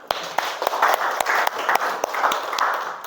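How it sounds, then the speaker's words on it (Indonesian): Several people in a classroom clap together in a burst of applause lasting a few seconds, with sharp individual claps standing out from the steady patter, fairly close by. "Tepuk tangan untuk kita semua."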